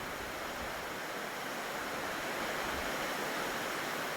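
Bongnae Waterfall, fed by water seeping from a volcanic basin, pours steadily with a constant, even rushing roar and no breaks, heard from a distance.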